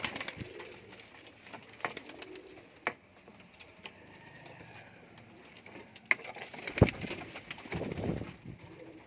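Pigeons of a Punjabi breed kept for sale give soft intermittent coos amid faint patter and light handling noises, with scattered clicks and a louder burst near the end; no talk is heard.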